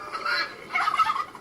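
A turkey on a farm gobbles in two close, rattling bursts, near and fairly loud, with no talking over it.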